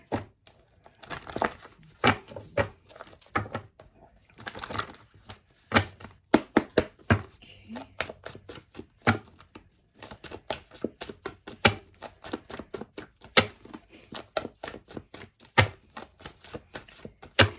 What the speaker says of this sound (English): now let's take some cards from the Barbie deck